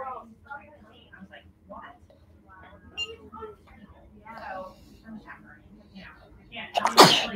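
Quiet talk in the background at a baseball game, then a sudden loud sneeze close by near the end.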